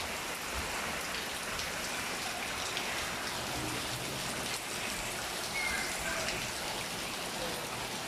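Heavy rain pours down during a flood in Barangay 180, Pasay City, a dense, constant hiss of drops hitting surfaces and running water, loud and unbroken throughout.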